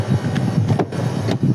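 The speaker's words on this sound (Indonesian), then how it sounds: "Nah ini bunyi kompresor" An MG 4 electric car's front air-conditioning compressor runs close by with a loud, steady mechanical whir and low hum, marked by a soft, irregular pulsing rhythm and no speech.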